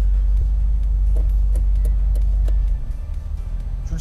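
A 1985 Chevrolet Camaro Z28 engine just after shifting into fourth gear, a deep steady rumble heard from inside the car that drops and loosens partway through as the throttle eases.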